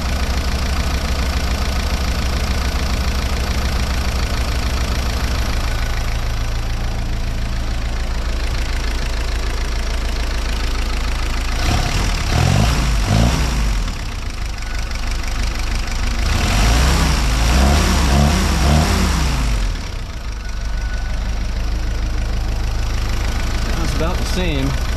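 A 1955 Willys CJ5 Jeep engine idles steadily and close up while its air-fuel mixture screw is adjusted, the low rumble swelling in a couple of brief revving surges midway.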